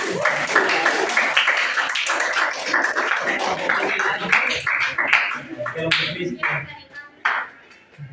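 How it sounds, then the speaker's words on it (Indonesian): Classroom applause for a student group during a teaching exam session, a patter of scattered hand claps running for several seconds with voices chatting over it, thinning out near the end. "Oke, tepuk tangan dulu untuk kelompok 3."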